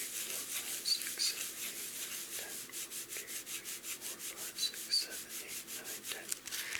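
A pen scratches across paper in rhythmic capital-letter drills of O, C, A and E, a soft repeated rubbing in even strokes, close and quiet, with no talk.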